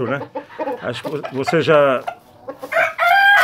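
Chickens on a farm, including a hen just caught, with bird calls and a crow-like rooster cry rising near the end, heard close and mixed with someone speaking Portuguese over them.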